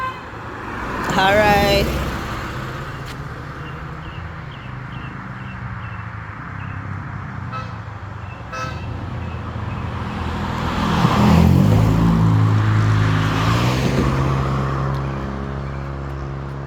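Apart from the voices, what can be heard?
vehicles passing on a road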